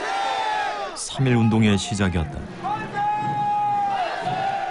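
A crowd shouts manse cheers at Tapgol Park in Seoul during the March 1st Movement, a brief loud burst of massed voices rising over and around a narrator's steady speech.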